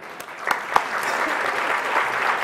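Audience applause at an awards gala, a steady even wash of clapping with a few sharper individual claps near the start, continuing without a break.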